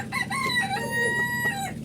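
A Polish cap rooster on a fancy-chicken farm crows once, a close, drawn-out call over faint background noise.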